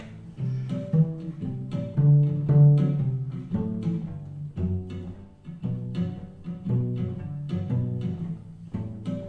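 A cello plays a steady walking bass line of repeated and stepwise bowed notes over 7th chords, clear and close, with no voices.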